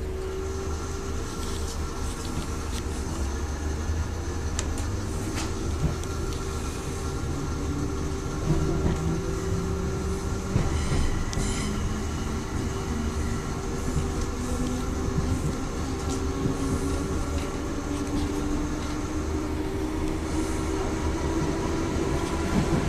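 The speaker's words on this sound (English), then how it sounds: "This train is for Hanscroft. The next station is St Michael." Passenger train running along rails in Liverpool, a steady close rumble with rattling wheels and faint clicks throughout, loud and continuous with no talking.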